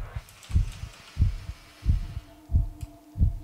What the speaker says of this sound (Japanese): 何ドキドキ言ってんの。